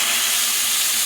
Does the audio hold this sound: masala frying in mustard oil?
yes